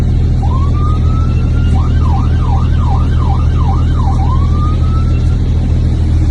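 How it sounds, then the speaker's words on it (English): A loud vehicle siren blasts nearby with a rising wail, a run of rapid yelping warbles, then another rising wail, all over a steady engine rumble. "we're going to give you a little blast of the siren"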